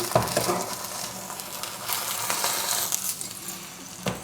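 Egg in bread sizzling in a frying pan as it is carefully flipped, a steady close crackle of hot oil with a sharp metallic clink at the start and another near the end.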